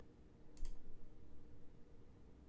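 A single computer mouse click on an on-screen button, brief and faint over a quiet room hum.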